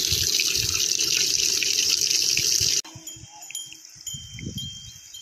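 Water gushes nonstop from a borewell that has flowed on its own for over a month, a loud steady rush that cuts off abruptly partway, leaving quieter splashing and faint animal sounds.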